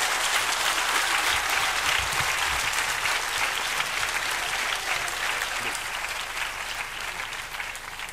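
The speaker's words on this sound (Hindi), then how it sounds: "एक बार और जोरदार तालियों से आह्वान।" Sustained loud applause from an audience at a book launch and question-and-answer event, dense clapping filling the room and tapering slightly toward the end.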